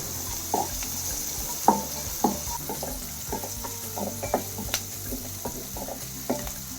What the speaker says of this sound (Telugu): కొంచెం ఉల్లిపాయ పచ్చి వాసన పోయేదాకా వేగనించి